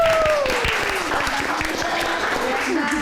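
A studio audience at an Indonesian talk show bursts into steady, loud applause, a dense continuous clapping that fills the whole stretch, with a sustained tone running underneath.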